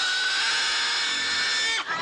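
A herd of pigs grunting and squealing loudly, a dense continuous chorus of high squeals that ends with a short tail of noise.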